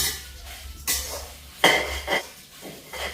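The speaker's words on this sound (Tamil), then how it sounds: "எல்லாமே செத்தல் மிளகாய் எல்லாம் போட்டு எல்லாமே நல்லா வறுபட்டு கொண்டு இருக்குது" Dried red chillies roast in a pan while being stirred, heard as loud close scraping and clattering strokes against the metal, irregular and separated by short pauses, with no talk.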